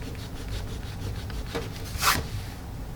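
A gum eraser rubbing on paper while pencils and erasers are tested, soft scratchy strokes close by with one louder rasping rub near the end, no voices.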